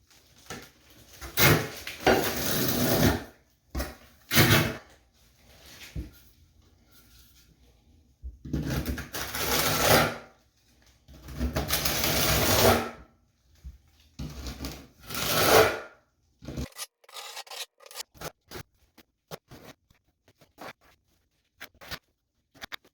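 Thinset mortar is spread for ceramic tile with a trowel, heard as repeated close, gritty scraping strokes in bursts of a second or two, separated by short pauses, with no talk.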